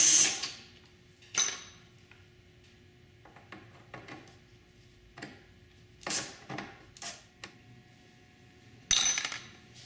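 Phillips screws being backed out of the trunk latch hooks on a Goldwing 1800 motorcycle trunk lid, heard as a sparse series of close, sharp metallic clicks and taps with quiet gaps between them.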